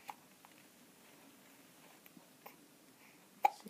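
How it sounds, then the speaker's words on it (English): A baby hiccups faintly in a quiet room, a few soft, isolated little catches spread out irregularly, the last one closer and a touch louder. "She has the hiccups."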